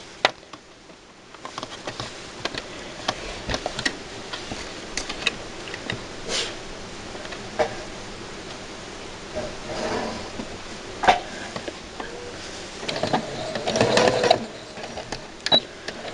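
A sewing machine stitches fabric for a baby bow tie in short, uneven bursts of whirring and light mechanical clicking, with brief pauses between runs and no talk.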